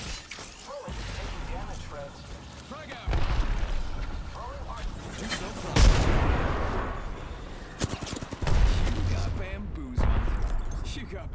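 A frag grenade blast and bursts of gunfire in the battle royale game Apex Legends arrive as repeated loud, broadband booms and cracks across the whole stretch, with players talking over the action.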